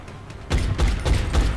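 Gunfire from the turn-based strategy game XCOM: Enemy Within: after a short quiet lead-in, a burst of loud, repeated shots with booming low impacts, several close reports in quick succession over about a second.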